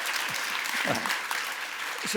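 An audience inside a library claps steadily in a dense, continuous round of applause from a sizeable crowd at a public talk, filling the whole stretch without pause.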